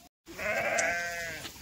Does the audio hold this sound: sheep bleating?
yes